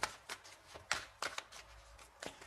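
Tarot cards being shuffled by hand for another draw, a quiet close run of riffling flicks and soft slaps repeating rapidly with no talk.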